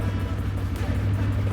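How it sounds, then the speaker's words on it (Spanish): A 2026 TVS Raider 125 FI motorcycle with fuel injection sits idling after a silent start, its engine giving a steady, low, continuous hum at close range with no talk over it. "La moto aquí está en ralente"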